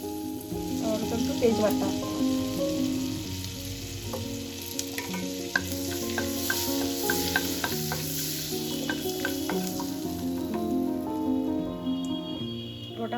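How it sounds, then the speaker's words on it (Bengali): Whole garam masala, cumin and bay leaf fry in oil with a close, busy sizzle and bright crackling pops, while a voice speaks briefly over it. "গোটা মশলা ভালোভাবে ভেজে নিয়েছি"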